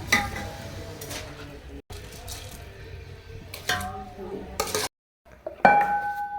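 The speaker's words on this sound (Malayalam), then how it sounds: "അപ്പം നമ്മൾ അരി ഇടുക കേട്ടോ." Washed rice is tipped into well-boiling water in a pot, with clanks and clinks of utensils and a pan against metal in a home kitchen, then bursts of scraping and hissing, set apart by short near-silent gaps.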